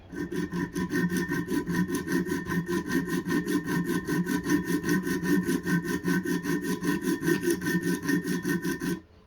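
A knife is stroked against the stones of a Wicked Edge Pro-Pack III sharpener, with rapid, even rasping passes repeated dozens of times in a close, steady rhythm, no voices.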